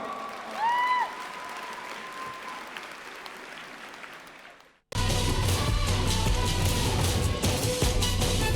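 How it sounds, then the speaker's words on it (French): Audience applause for a cosplayer on stage at the Japan Expo cosplay show, a dense, loud, steady wash of clapping that surges in abruptly after a quieter stretch with whistling tones and murmur. "On l'applaudit très très fort."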